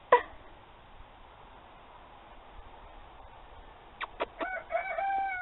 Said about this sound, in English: You hear that rooster, Char-Char?